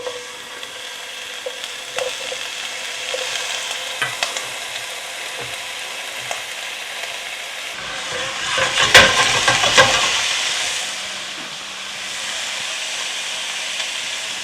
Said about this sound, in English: Get this beautiful aroma of the olive oil popping up on me.